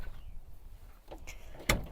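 A cabinet door in a camper van is unlatched with a small lever and swung open, giving a brief sharp click and knock near the end after soft rustling and faint handling noises.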